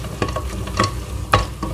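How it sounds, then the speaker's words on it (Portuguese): A bacon risotto is stirred in the pan as vegetable broth goes in, giving a soft bubbling sizzle punctuated by three sharper scraping strokes of the spoon, close and without voices. "sempre mexendo e colocando o caldo de legumes"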